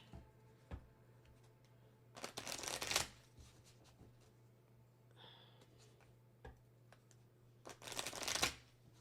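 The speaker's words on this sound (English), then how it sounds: "Actually, let me shuffle these properly." A deck of cards being shuffled at close range in two quick riffling bursts separated by a quiet pause with faint small handling clicks, no talking.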